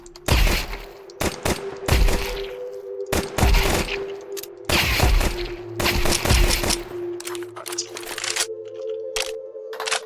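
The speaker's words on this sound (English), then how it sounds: "I'll probably start with a distant one with my AK, which is my rifle" Rapid AK rifle gunfire in Counter-Strike 2: several sharp bursts of loud, close cracks separated by brief pauses, with a steady game drone underneath and no talk.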